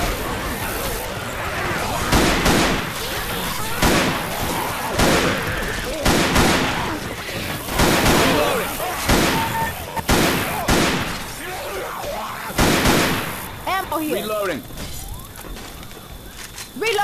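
Repeated loud gunshots from sniping in the zombie shooter Left 4 Dead 2, evenly spaced cracks about every second or two, mixed with game noise and voices talking.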